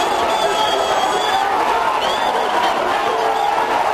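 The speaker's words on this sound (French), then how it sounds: "Au milieu d'une foule d'électeurs surexcités" Excited crowd of voters in the Democratic Republic of the Congo thronging a polling centre, a dense steady roar of many voices and cheers, loud and continuous throughout.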